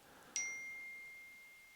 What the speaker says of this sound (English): the phone's dinging here